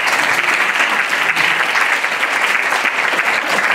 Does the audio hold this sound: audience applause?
yes